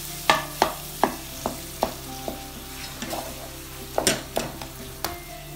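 Peri peri potato mixture with ginger, garlic, mint and coriander is stirred in a pan: a series of sharp, close spoon knocks and scrapes, roughly one every half second, over a low steady sizzle, with no talking.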